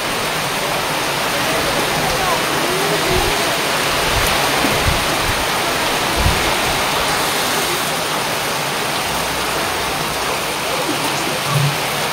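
Heavy rain pours steadily during a storm, a dense continuous hiss heard close and loud throughout, with faint voices murmuring underneath.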